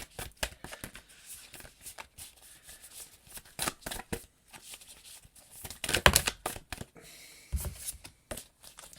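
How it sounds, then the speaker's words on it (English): Spirit animal cards being shuffled by hand in a quiet room, a series of soft riffling bursts and snapping card flicks coming in irregular waves, close and fairly faint. "let's move on and pull some spirit animal cards"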